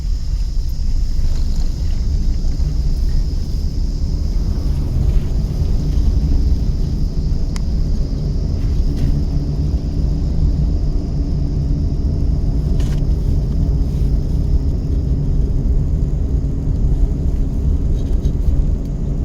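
A car engine rumbles steadily and loudly from inside the cabin during a gear-shifting driving lesson, with a continuous low drone and no clear rises in revs.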